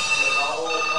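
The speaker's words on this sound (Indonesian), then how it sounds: "di tengah tragedi yang terjadi ada telepon" A telephone ringing with a sustained electronic tone, loud and close, in a brief burst.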